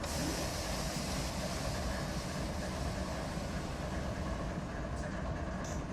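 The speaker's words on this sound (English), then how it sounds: "And now I can release the train brake." Air brakes release with a long, steady hiss over the low rumble of a very long freight train led by many locomotives in the Run 8 Train Simulator game, continuous and loud with no talk.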